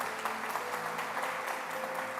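Church congregation applauding in a sustained, dense wash of clapping with no pauses, steady and full throughout.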